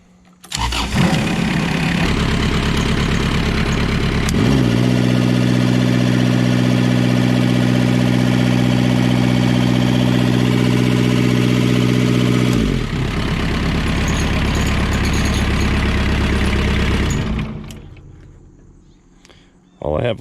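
A Kubota diesel engine on a homemade junkyard roller compactor fires up and settles into a loud, steady, close idle, then its note shifts and it winds down near the end.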